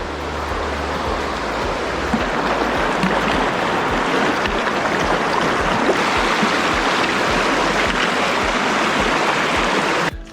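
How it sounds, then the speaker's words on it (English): The Waitapata River rushes steadily across a tramping-track river crossing in New Zealand's Kaimai Range, a loud, continuous broadband roar of flowing water heard close up with no voices. "first river crossing. This is the Waitapata River, I think."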